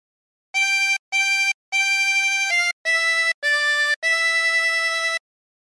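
Reedy tremolo harmonica with 24 holes playing a short phrase of Hark the Herald Angels Sing, seven clean blown and drawn notes separated by small gaps, alone and close.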